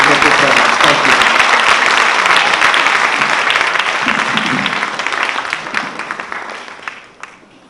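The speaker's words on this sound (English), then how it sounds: "please give Vindhya another beautiful round of applause for her beautiful performance" Audience applause following a dance performance at a Rangapravesham, a full, dense round of clapping that holds strong for several seconds before gradually thinning and fading out.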